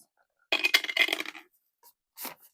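Dice rolled during a live giveaway stream clatter in a quick burst of tumbling clicks, followed by a couple of faint taps as they settle; no one talks.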